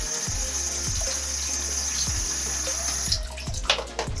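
Water poured and run into a basin for foot care in a nursing-assistant skills setting, a steady splashing flow with a few louder splashes near the end.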